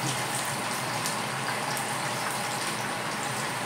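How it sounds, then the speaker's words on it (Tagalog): Very hot cooking oil poured over lechon kawali pork makes a dense, steady sizzling hiss, close and continuous throughout. "Buhusan ko siya ng sobrang init na mantika."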